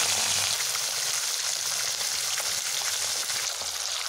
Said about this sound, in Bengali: এবার আমি আমার এই রুই মাছগুলোকে ভেজে নেব।